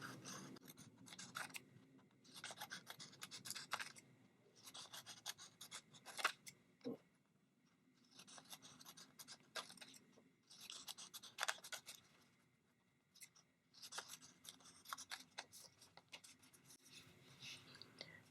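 Scissors snip through paper strips for handmade paper flowers, giving bursts of crisp rasping cuts in quick runs, separated by short pauses, fairly close and quiet with no talking.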